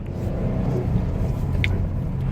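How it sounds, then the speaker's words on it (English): Tires of a 2018 Subaru WRX STI roll steadily over the road, a continuous low rumble and hiss from inside the moving car. "Okay, so can hear those tires"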